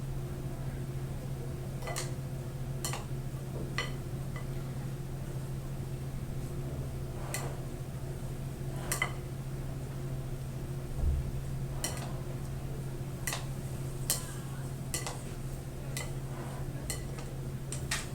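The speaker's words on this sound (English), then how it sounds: "And now I'm going to mix it." Mango pico de gallo being mixed in a bowl, with scattered soft clicks and scrapes of a utensil against the bowl over a steady low hum, no talking.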